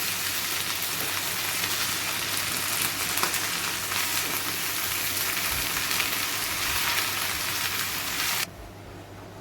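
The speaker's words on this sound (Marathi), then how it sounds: "इथे भाजी आपली परतून झाली छान." Cowpea leaves sauté in a pan with a steady, close, loud sizzle for several seconds. The hiss cuts off sharply near the end.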